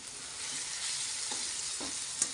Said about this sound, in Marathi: चल परतून घ्या आता